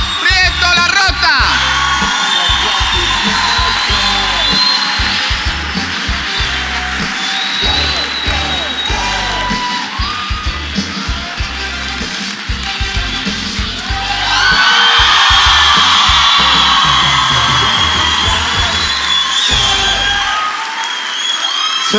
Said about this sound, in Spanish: ¡Fuerte el aplauso a Guillermo Arturo Prieto La Rota!